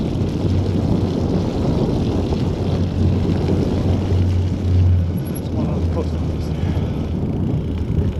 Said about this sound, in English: Riding east and getting wind coming at me.